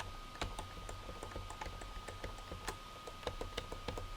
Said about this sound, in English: you can move forward and back a day at a time by using your plus and your minus keys